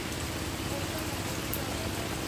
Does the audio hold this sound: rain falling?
yes